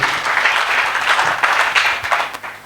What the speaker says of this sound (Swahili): Let's clap to God first.